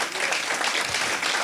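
A church congregation bursts into brief, dense applause, a short wash of many hands clapping together.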